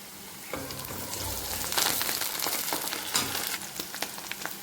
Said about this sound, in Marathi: आपला कांदा छान झालेला आहे त्यात थोडीशी लसणाची पेस्ट घालत आहोत आपण थोडासा कढीपत्ता